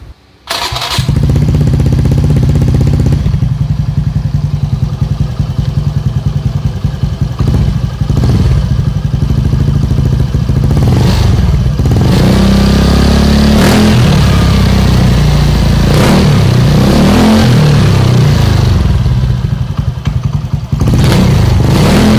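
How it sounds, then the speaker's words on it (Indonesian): A motorcycle running a Tsukugi aftermarket exhaust starts up, then idles with a loud, close, clattering burble. Several throttle blips rise and fall through the middle and later part. "Ya begitulah kurang lebih suara knalpotnya setelah gaswheel warna kuningnya saya keluarkan"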